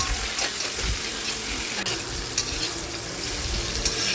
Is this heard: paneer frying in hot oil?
yes